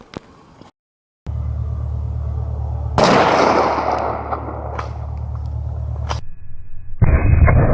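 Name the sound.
12 gauge shotgun firing Rio Royal 00 buckshot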